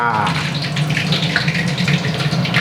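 Fish sauce poured into a simmering pot of thick curry broth for a snakehead fish pae sa dish, giving a loud, steady splashing pour of liquid that runs unbroken throughout.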